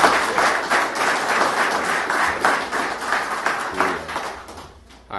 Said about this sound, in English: Please give Matt a round of applause